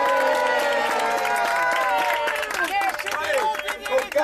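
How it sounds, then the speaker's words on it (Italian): Spectators at the Corrida di San Geminiano road race applaud a runner, with loud cheering and shouting voices layered over scattered clapping. The crowd noise is close and continuous, and the voices rise and fall throughout. "tributiamo un grosso applauso a Rocco"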